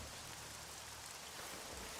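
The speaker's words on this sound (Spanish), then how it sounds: "La lluvia no me mola." Steady rain in the video game ELEX, an even, continuous hiss of falling drops spread across the whole scene at a soft, constant level with no voices.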